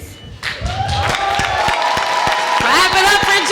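A crowd at a children's oratorical contest applauds and cheers a young speaker, a dense burst of clapping with rising shouts and whoops that builds in loudness over a few seconds.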